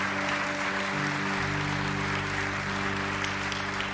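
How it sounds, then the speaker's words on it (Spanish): A church congregation applauds during a worship service, a dense, steady wash of clapping that fills the whole stretch, with sustained musical tones held underneath. "Dale ese aplauso a Jesús de Nazaret."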